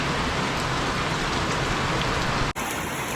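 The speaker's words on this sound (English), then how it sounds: "it's pouring down rain and hailing" Pouring rain and hail drumming on a trail shelter, a loud, dense, continuous hiss and patter that cuts off abruptly near the end before resuming.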